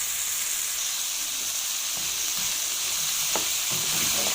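Sausage, onion and colored bell peppers fry in a pan, a steady loud sizzle and hiss that runs without a break, with faint stirring scrapes near the end and no voices.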